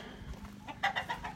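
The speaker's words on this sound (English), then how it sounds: "But we're up to 20 chickens now, which is pretty cool." Chickens in a backyard flock of about twenty birds give several short, fairly close clucks in a quick irregular run over low background noise, with no voices.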